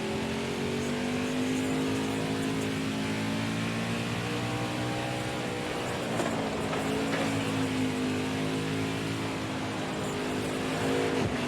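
A NASCAR stock car engine in NASCAR Heat 4, a steady, loud, droning roar that holds high revs and shifts pitch slightly partway through.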